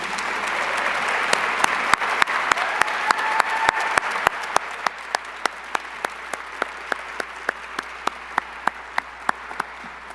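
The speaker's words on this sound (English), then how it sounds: "Please stand so we can give you a round of applause." An audience at a mayor's State of the City address gives a long round of applause, many hands clapping loudly at first, then thinning to scattered, sharp individual claps that fade over about ten seconds.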